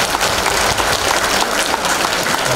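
An audience applauds warmly at the closing of a charity festival, dense continuous clapping from a crowd filling the room for a few seconds.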